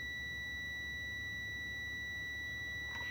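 A multimeter beeps steadily in continuity mode while probing a dead circuit board under repair. A thin, high, unbroken tone holds for the whole stretch over a low background hum, with no talk.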